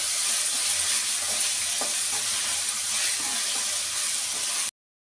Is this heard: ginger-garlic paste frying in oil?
yes